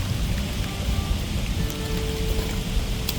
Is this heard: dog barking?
no